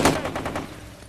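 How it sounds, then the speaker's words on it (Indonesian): Rapid bursts of gunfire ring out in a bank robbery shootout between robbers and police, a quick volley of sharp, loud reports close together that fade out within about a second. "Para perampok dan polisi saling melepaskan tembakan sampai-sampai hampir mengenai Sandra."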